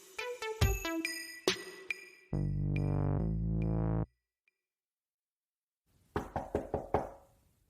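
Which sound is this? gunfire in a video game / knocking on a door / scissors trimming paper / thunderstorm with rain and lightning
knocking on a door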